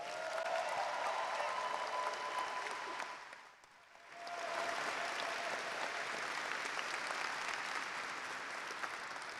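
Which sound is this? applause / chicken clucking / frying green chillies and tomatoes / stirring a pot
applause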